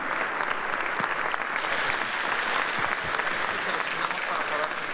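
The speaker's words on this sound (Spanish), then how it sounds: "me gustaría que le dieran una ronda de aplausos al profesor Stiglitz" Audience applause for Joseph Stiglitz after a keynote speech at a forum, dense, even clapping filling the room without a break, with speech faintly underneath.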